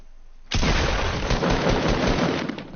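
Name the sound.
gunfire in video game Fortnite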